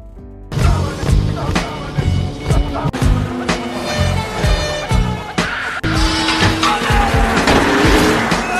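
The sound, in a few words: car chase with police in a film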